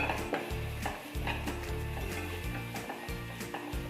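Garam masala and spice powders are stirred in a pan, with steady repeated scraping strokes in an even rhythm over a continuous background hum.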